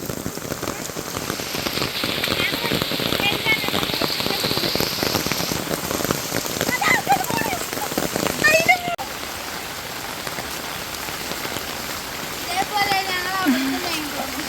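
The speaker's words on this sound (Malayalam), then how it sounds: "ഗൈസ് നല്ലോ മഴ പെയ്തിട്ടിപ്പോൾ" Heavy monsoon rain in Kerala pours steadily on surfaces, a dense constant hiss with splashing, as a person talks intermittently over it.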